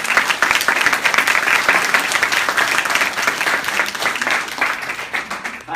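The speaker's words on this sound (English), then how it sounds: "Claps are dope." A live audience at a poetry tour performance in Phoenix, Arizona claps loudly and densely, a continuous burst of applause with faint voices in the crowd.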